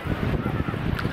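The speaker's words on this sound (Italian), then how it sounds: "e qui tira vento" Wind blows steadily on the Adriatic coast at the Riviera del Conero, buffeting the microphone with a loud, gusty rumble and rushing noise throughout.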